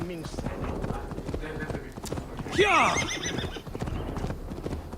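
A horse in the Assassin's Creed Valhalla video game gives a clear rising whinny midway through, with hoofbeats and game sound underneath and someone talking over much of it.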